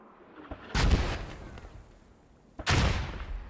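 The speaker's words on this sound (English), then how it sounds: "And the Mortars now once again engaging in." Two heavy booming blasts of mortar fire in a video game, spaced about two seconds apart, each with a rumbling decay, moderately loud with no talk.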